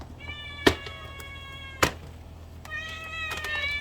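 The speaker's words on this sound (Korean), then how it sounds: "여기 우는 고양이가 누가 있지?" Several cat meows sound close by, harmonic cries spread across a few seconds with two sharp clicks between them.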